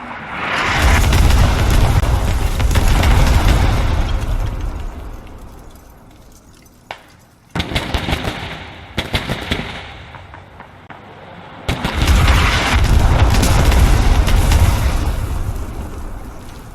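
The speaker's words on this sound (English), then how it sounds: "That artillery didn't really do much." Heavy artillery explosions in a multiplayer battle game come as loud, rumbling, crackling blasts in several waves, with debris-like clinking and quieter gaps between the barrages.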